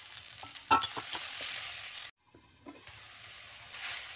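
Susni greens and dried chillies sizzle in a hot wok, a steady frying hiss broken by scraping stirs and a brief pause before the sizzle resumes.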